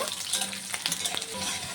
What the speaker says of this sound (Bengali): রসুনটাকে হালকা করে একটু ভেজে নেব।